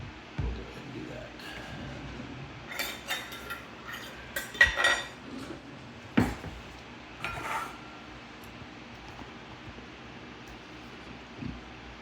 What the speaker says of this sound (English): zesting an orange, a lemon, it's pretty easy